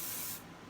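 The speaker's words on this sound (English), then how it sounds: "then I would spray this side" 505 spray adhesive hisses from an aerosol can onto quilting fabric in one short, close burst that tails off into quiet.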